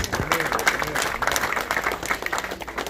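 Guests at a traditional Cameroonian wedding reception in Bamenda clap together in a steady burst of applause lasting a few seconds, a crowd sound with faint voices mixed in.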